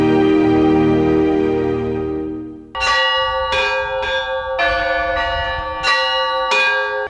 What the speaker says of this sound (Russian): Колокольным звоном встречал Покровский храм села Верхний Ломов владыку митрополита